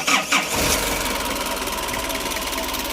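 A Nissan Urvan van engine cranks briefly and then catches, settling into a loud, steady idle close by with the hood open.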